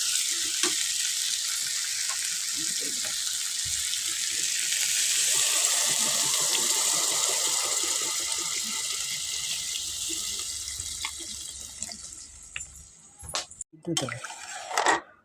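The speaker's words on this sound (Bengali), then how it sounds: "এখন আমি এই শসার উপর দিয়ে দেবো জল" Water poured into a pan of frying cucumber and golda shrimp curry, a hissing sizzle with bubbling and pouring that stays even for many seconds, then fades as clatters and stirring noises break in near the end.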